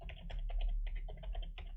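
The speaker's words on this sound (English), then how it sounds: "I'm just going to type in here" Computer keyboard keys typed in quick, uneven bursts of clicks, close and clear with no talking, while entering JavaScript code.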